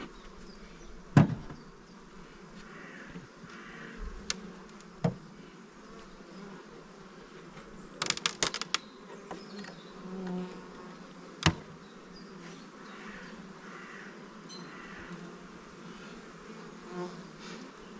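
A dense, steady hum of honey bees buzzing close by at an open hive, broken by a few sharp clicks and knocks.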